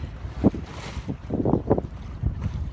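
A sailboat runs under wind alone without its motor, with rushing wind buffeting the microphone and waves slapping and washing against the hull in irregular surges.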